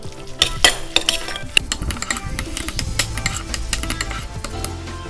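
Courgette salad being mixed with vinaigrette in a bowl, a busy run of close utensil clinks, scrapes and wet tossing sounds in an uneven rhythm, fairly loud with no talking.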